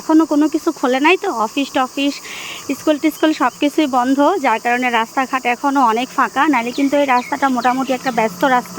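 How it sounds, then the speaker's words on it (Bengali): A cricket calls from a mango tree branch beside a quiet road during rain, a steady high drone running faintly beneath continuous close talk. "আর এই দিকের একটা ডালের মধ্যে একটা ঝিঝি পোকা ডাকতেছে"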